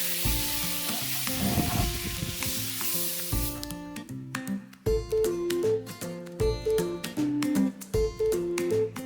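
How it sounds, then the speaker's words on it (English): Mushrooms start sizzling as they hit a hot pan: a loud, bright sizzle for a few seconds, after which music with steady notes rises and carries on above the fainter frying. "I'm going to start my mushrooms"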